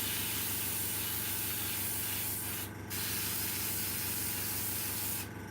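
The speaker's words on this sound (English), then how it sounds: "it's onto a little air compressor specifically built for airbrushes with Debbie." An airbrush driven by a small dedicated air compressor sprays with a continuous close hiss over a faint motor hum, briefly easing off once midway and again near the end.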